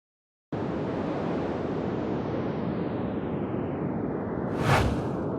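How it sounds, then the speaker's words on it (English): A steady gust of wind starts suddenly and blows on as a broad, even whoosh, then swells briefly near the end before carrying on. "Well, let's try a breeze,"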